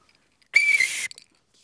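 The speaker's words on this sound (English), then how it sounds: "I can play a whistle and still walk at the same time" A whistle is blown once in a short, bright, breathy blast lasting about half a second, standing alone in otherwise near silence.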